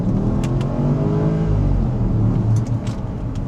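A Porsche Cayenne Turbo 958.1 engine revs under hard throttle, a steady, fairly loud mid-pitched drone with a slight rise, heard from inside the car with no talking.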